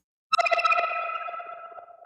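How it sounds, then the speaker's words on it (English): A 'jibber jabber' synth preset from Psychedelic Synths fires a quick arpeggiated burst of bright, pulsing tones that starts suddenly, flutters rapidly and fades over about two seconds. "this one extra little kind of jibber jabber is what I believe they're calling it out of Psychedelic Synths"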